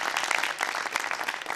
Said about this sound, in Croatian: Jedan aplauz za našu Mašu.